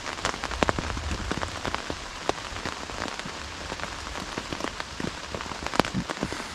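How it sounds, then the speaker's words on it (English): Heavy rain drums on a camping tent during solo wilderness camping, a dense continuous patter of close droplet hits with occasional sharper taps, steady and moderately loud with no voices. "You can hear the rain. Now it's really raining hard"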